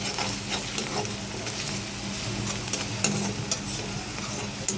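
Crushed garlic frying with onion in a pan for a fenugreek-leaf (methi) bhaji, a steady close sizzle with stirring clinks and scrapes throughout and no talking.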